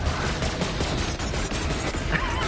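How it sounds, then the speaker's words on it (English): Rapid, sustained gunfire rattles on without a break in the Borderlands 3 video game, dense and steady throughout. "who's shooting me?"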